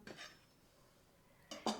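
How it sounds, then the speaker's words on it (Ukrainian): A lid or plate is set over a bowl of marinated veal, giving two short clinks of crockery, one at the start and a louder one near the end, with quiet in between. "Накриваємо кришкою або тарілкою, щоб не обвітрювався."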